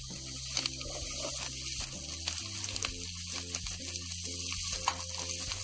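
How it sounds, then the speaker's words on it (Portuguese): Sausage sizzling steadily in a pan with sautéed garlic and onion, a continuous bright frying hiss with occasional crackles and stirring sounds. "refogou bem o alho e a cebola, a gente vai acrescentar a linguiça"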